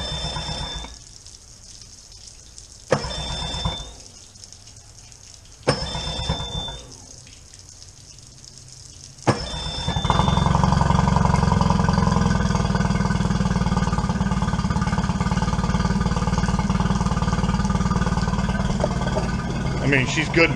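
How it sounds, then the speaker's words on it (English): A cold small gas engine with electric start, powered by a lithium battery, cranks in three or four short whirring bursts separated by pauses, then catches and settles into a steady, loud running drone. "Now it's going to take a couple turnovers here, even with the electric start."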